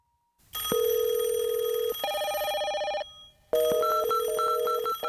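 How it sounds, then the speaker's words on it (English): A telephone rings loudly and alone, with a long electronic tone followed by a shorter, higher tone, a brief pause, then a rapid warbling ring pattern. "imagine making a phone call"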